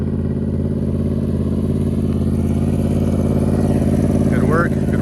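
A Yamaha R1 sport motorcycle holds first gear at low speed, giving a constant, fairly loud engine drone with even harmonic buzz and no hard revving.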